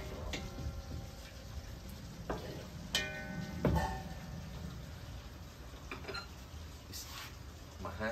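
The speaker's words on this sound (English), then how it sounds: "I like to stir it up a little bit though." Beef chow mein stirred in a pan with oyster sauce and garlic, a soft continuous sizzle under scraping and a few clinks of the utensil against the pan, close and fairly quiet.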